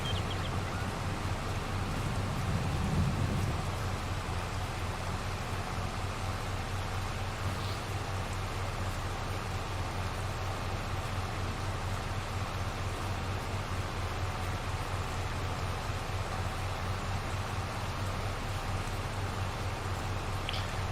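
Steady rain falls in the farming video game Farming Simulator 22, a constant even hiss of rainfall lasting throughout, with no talking over it.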